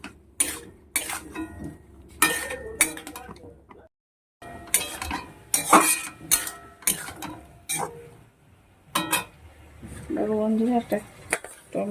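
Vegetables are stirred with ground spices and salt in a metal pan, giving rapid, loud clattering scrapes of a spoon in bursts, with a brief pause and some voice sounds near the end.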